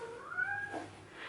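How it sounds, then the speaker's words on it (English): A pet cat gives a single drawn-out meow, rising then falling in pitch, close and clear in a quiet indoor room. "that is my cat."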